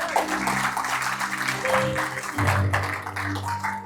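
Congregation clapping during a church sermon, a continuous wash of applause with some tonal sound mixed underneath.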